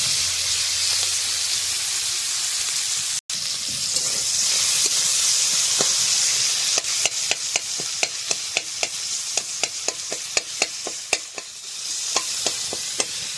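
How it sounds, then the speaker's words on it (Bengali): Shrimp sizzle and fry in hot oil with salt and turmeric in a wok, a steady close hiss broken by a run of sharp scraping clicks from stirring, with no voices. "চিংড়ি মাছটাকে আগে ভালো করে ভেজে নেব"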